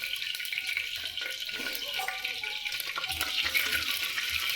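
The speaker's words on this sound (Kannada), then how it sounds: "ಸ್ವಲ್ಪ ಸಾಸಿವೆ, ಮಾಮೂಲಿ ಒಗ್ಗರಣೆ ಎಲ್ಲರೂ ಯಾವ ಥರ ಹಾಕೊಂತಾರೋ ಅದೇ ಥರ ಹಾಕೊಂತೀವಿ." Mustard seeds tempering in hot oil in a home kitchen, a steady bright crackling sizzle with faint spattering pops, close and continuous, with occasional low clatter of utensils and no talk.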